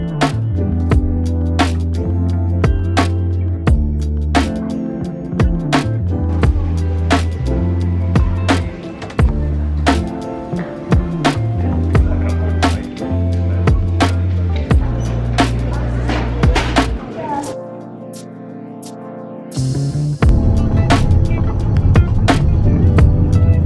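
Car cabin interior while driving over a series of speed bumps, with repeated low thumps and rattles over a rumbling engine, bursts of in-car noise that change near the end, close and loud, with no clear talking.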